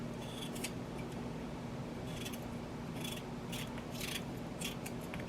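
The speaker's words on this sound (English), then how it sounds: "I'll cut these potatoes small so they don't take forever to cook." A knife slices potatoes into small pieces for ham and white bean soup, giving faint, close cutting taps in short clusters over a steady low background hum.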